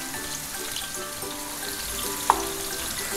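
Masala-coated prawns sizzle in a pan for a Kerala-style prawn roast, a steady close crackling hiss with one brief sharp clink partway through.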